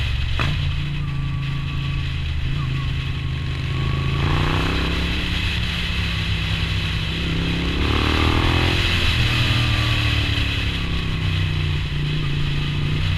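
A Moto Guzzi V9 motorcycle engine drones steadily while riding, a continuous low throb with rising and falling pitch as the rider shifts and accelerates, heard up close with wind noise and no talk.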